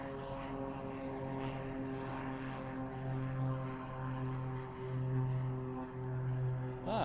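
An Asia Pacific Airlines aircraft at Honolulu airport, its engine tone a steady, sustained drone with a few swelling peaks, heard from a moderate distance with no talk over it.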